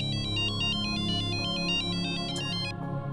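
A phone ringtone chimes for an incoming call in a repeating electronic pattern of bright, evenly spaced pulses over a low background hum, steady for about two and a half seconds before cutting off.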